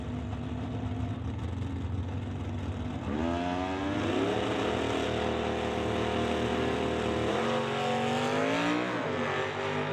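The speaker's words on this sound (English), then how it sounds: "So the Dakota leaving the line," A V6 Dodge Dakota launches from the drag-racing line at a stock/super stock bracket event, its engine note rising sharply into a hard rev after a steady idle, then climbing again through the run, fairly close.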